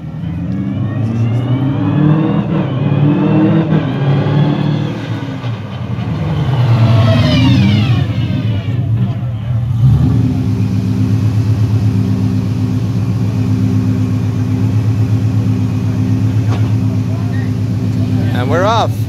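A drift car's engine idles and revs while the brakes and transmission are tested before heading out, with a rising and falling engine note giving way to a steady loud drone.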